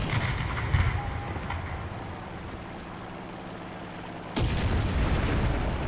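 Artillery shells pound a capture point in the tank game War Thunder, a continuous rumbling barrage of distant booms with a sharper, louder blast near the end.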